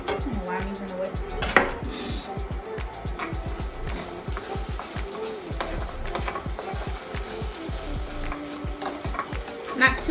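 A whisk scraping and stirring garlic in a pan for a jerk chicken Alfredo, with quick repeated metallic taps and clinks against the pan over a faint sizzle and occasional louder knocks.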